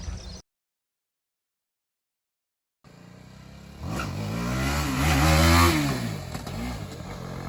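A TVS Apache RR 310 motorcycle engine starts up after a brief silence and revs, its loud rumble rising and swelling to a peak before holding steady.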